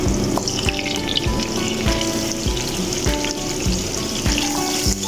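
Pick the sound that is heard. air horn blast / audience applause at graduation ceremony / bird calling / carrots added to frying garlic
carrots added to frying garlic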